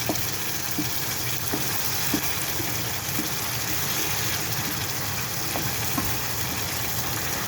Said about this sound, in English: You scrape all the caramelisation back into the pan.